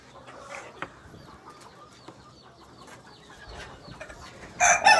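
Native chickens, including broody hens and a rooster, make soft clucks and scattered calls around a farm shed, with a louder squawk or crow near the end.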